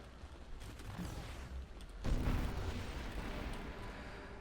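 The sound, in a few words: explosions in Nova Drift video game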